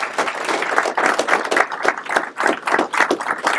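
An audience applauds an HR team at a workplace gathering, a dense, steady wash of many hands clapping, fairly close and loud, with no voices on top.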